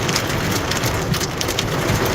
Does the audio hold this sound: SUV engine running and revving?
no